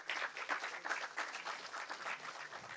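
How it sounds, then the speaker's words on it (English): Audience applause for two debate teams at a televised debate, a steady wash of clapping held at moderate distance through the whole stretch with no voices on top. "a huge round of applause for both the teams"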